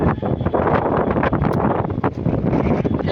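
Strong wind gusting hard against the microphone during a stormy spell without rain, a loud continuous rumbling roar with rustling, close and filling the whole clip.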